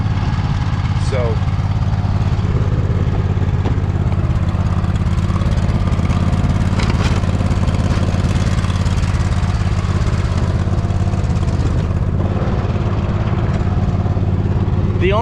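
A Poulan lawn mower pushes a snow plow through icy snow, its engine running loud and steady close by with a rough, labouring drone throughout, with no talk over it.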